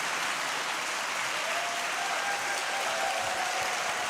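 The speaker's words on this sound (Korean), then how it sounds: "이 참된 희망을 주시는 주님께 영광의 박수 올려드리겠습니다" A church congregation at a Korean dawn prayer service claps steadily and evenly throughout, a dense wash of applause heard somewhat distantly.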